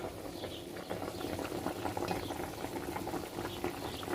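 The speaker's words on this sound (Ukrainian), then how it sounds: "Голубці у мене киплять." Stuffed cabbage rolls simmer in a pot with its lid set loosely on top, giving a steady, close bubbling and gurgling boil with soft pops throughout. No voices are heard.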